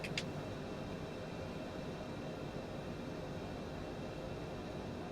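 Aircraft engine droning steadily in Microsoft Flight Simulator 2020 as throttle is added, a faint constant broadband roar with a brief click at the start and no talking.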